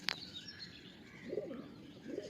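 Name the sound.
pigeons in a loft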